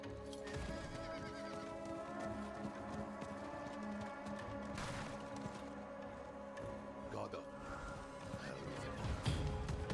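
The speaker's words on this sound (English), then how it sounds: "I swear I run faster without my horse." A horse whinnies and hooves clip-clop at a run amid a busy, layered Diablo 4 game soundscape with music in the background.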